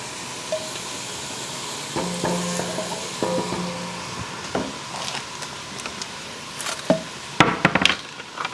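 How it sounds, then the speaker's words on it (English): Green chilies are stirred into a sizzling meat and onion mix in a pan, with a steady soft frying hiss and scattered scraping and clacking of a spoon against the pan. "And it says to also put the green chilies in, which I'm going to do."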